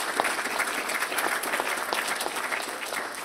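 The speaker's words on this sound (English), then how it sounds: "So let's have a round of applause for those." Audience applause at a mayor's employee recognition awards ceremony, steady moderate clapping from a crowd heard at some distance, continuous through the whole span.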